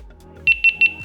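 A GoPro camera plays its power-on chime, three quick bright double beeps in a rising pattern, close and clear over faint background.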